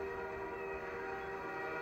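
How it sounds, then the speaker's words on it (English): A train whistle sounds as one steady, faint, drawn-out tone over a low rumbling background and lasts throughout. "Listen to that whistle."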